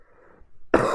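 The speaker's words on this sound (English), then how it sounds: "it is not nice to have to hear coughing on a stream" A single harsh cough bursts out close to the mic near the end, after near-silence with a faint murmur.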